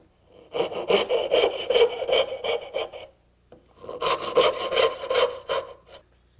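A hand saw cuts down to a marked line in a wooden board, two runs of quick back-and-forth rasping strokes split by a short pause, close and alone.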